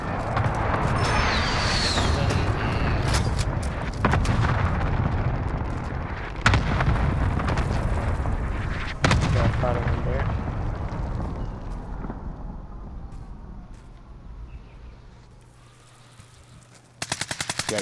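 Video game firefight with rapid automatic gunfire and heavy explosion booms, dense and loud for most of the stretch before thinning out, then a sharp burst at the end, with little talk.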